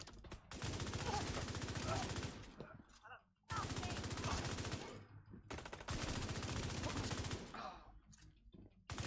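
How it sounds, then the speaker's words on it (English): Sustained automatic assault rifle fire in The Division 2 rattles out in three long bursts separated by brief pauses, loud and close, with a voice talking over parts of it. "when you're shooting an assault rifle and things are dying that quick"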